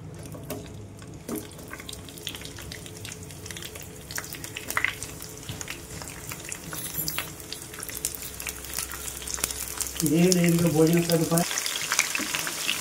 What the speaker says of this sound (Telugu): ఆనియన్ పచ్చిమిర్చి అనేది మంచిగా వేగాలి